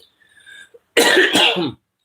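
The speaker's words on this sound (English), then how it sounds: "if I do cough, don't get mad at me" A rough, broadband cough burst, likely two quick coughs, loud and close, following a faint hum and short quiet.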